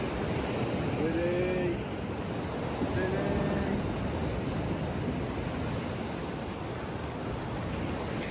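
Ocean waves break on a beach in a continuous, broad wash of surf mixed with wind buffeting the microphone. A faint distant voice or call rises briefly early on.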